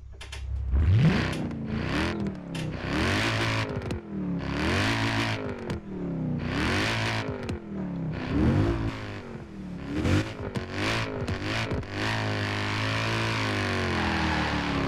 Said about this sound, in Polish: to jest potwór, posłuchajcie jak on brzmi